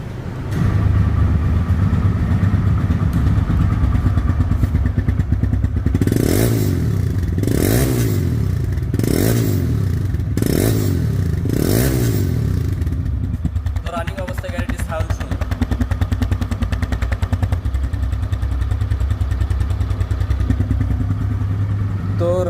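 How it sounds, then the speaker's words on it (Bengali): A 2022 TVS Raider 125 motorcycle engine running close by, idling with a steady rumble and then revved in a series of rising and falling bursts before settling back to idle, loud and dominant. "এখন গাড়িটির সাউন্ড শোনা যাক"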